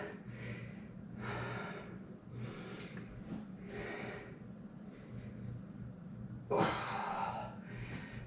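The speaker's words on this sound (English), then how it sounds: "Breathing out as you're exerting." A person doing a third-trimester strength and cardio workout breathes heavily: a steady run of loud, breathy exhales and snort-like gasps at roughly one-second intervals, close up, with one sharper, louder breath near the end.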